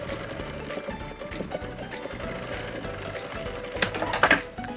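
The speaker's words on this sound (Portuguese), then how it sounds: "Venho aqui, já passo uma costurinha bem na beiradinha" Sewing machine stitching along the edge of a bag, a fast steady mechanical chatter at close range, with a brief clatter of handling near the end.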